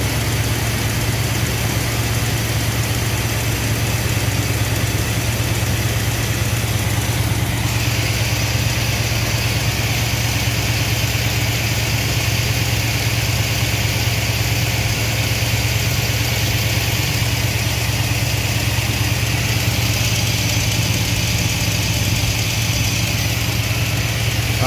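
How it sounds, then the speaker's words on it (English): Car engine running steadily with its ignition timing advanced far past normal, a continuous loud close drone with a strong low hum and unbroken noise, no voices. "But the engine does seem to like it."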